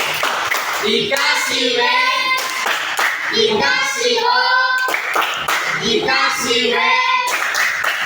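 A primary school class claps in rhythmic patterns for a student group, with bursts of claps alternating with children's chanted voices throughout.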